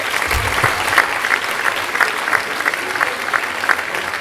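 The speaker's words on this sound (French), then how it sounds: "Et là aussi, je les applaudis." An audience at a French municipal New Year's address breaks into loud, dense applause, many hands clapping steadily and close, with a few louder individual claps punctuating the wash.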